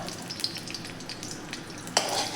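Homemade ghee sizzles softly as it heats in a kadhai on a gas stove, giving a light crackle with small pops and one sharper spit near the end. No voice is heard.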